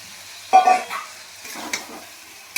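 Potatoes tipped into sizzling spice paste in hot oil, with a sudden burst of frying hiss, then lighter stirring and scraping against the pan, close by.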